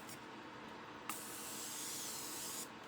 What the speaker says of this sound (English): Spray all over your face.